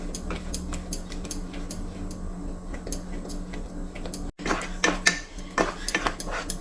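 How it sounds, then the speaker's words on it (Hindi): A spoon stirs a thickening mango coconut barfi mixture of mango pulp, sugar and milk powder in a pan, making a steady run of close metallic scrapes and clinks that grow busier and louder toward the end, with no talk. "इसी तरह हम चलाते हुए पकाएंगे इसे"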